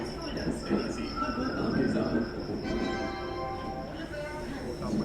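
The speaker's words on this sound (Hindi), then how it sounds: "चलिए फाइनली अपना अराइवल हो रहा है कानपुर सेंट्रल रेलवे स्टेशन पे।" Passenger train rolling into Kanpur Central railway station, a steady rumble with squealing wheel and brake tones and metallic ringing, while a voice talks over it.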